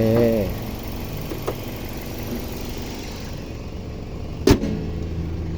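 A Toyota Soluna Vios 1.5 VVTi automatic sedan idles with a steady low hum and no stumbling, broken only by a short tonal sound at the start and a sharp click near the end.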